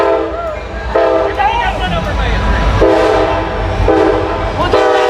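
A train rolls by with a loud horn sounding in repeated long blasts over steady rumbling, with a voice talking briefly in the background.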